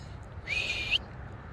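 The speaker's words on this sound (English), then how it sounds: "That was a weak whistle" A single short, weak whistle to call a puppy at a dog park, rising briefly then holding steady for about half a second, heard alone against quiet outdoor background.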